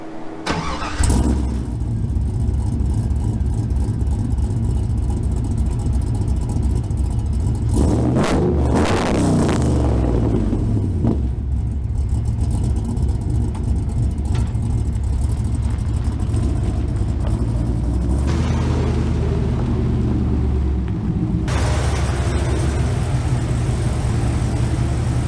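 A car engine breathing through a 3-inch stainless Speed Engineering X-pipe exhaust, starting up and then running steadily with a low, rumbling idle and brief revs, loud and close throughout.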